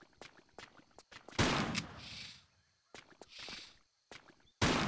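Several sharp, loud gunshot blasts in Tomb Raider III, spaced irregularly, with brief echoing tails and quieter clicks between.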